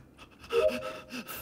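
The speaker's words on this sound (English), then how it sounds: "Why are you breathing so heavy?" Someone breathes heavily during a tense Among Us game, with loud, close gasping and panting breaths that rise and fall in quick succession.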